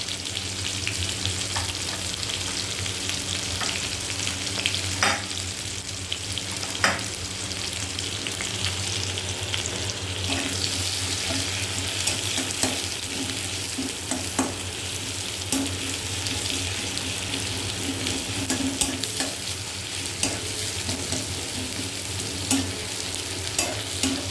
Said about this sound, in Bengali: পেঁয়াজটা হালকা ভাজা হয়ে এলে রসুনটা দিয়ে দেবো